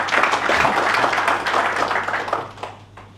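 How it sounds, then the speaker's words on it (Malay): An indoor audience at a Gerak 98 gathering on Pulau Langkawi gives a long round of applause for a Datuk, dense steady clapping that thins out and fades toward the end. "Satu tepukan gemuruh kepada yang berbahagia Datuk"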